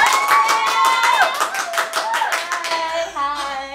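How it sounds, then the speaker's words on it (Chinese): Studio applause and cheering welcome a celebrity guest, the Golden Melody Awards Best New Artist nominee, onto a Chinese-language talk show; steady close clapping and excited cries fill the first seconds before a voice comes in near the end. "我们现在用掌声以及你在荧幕前的尖叫声"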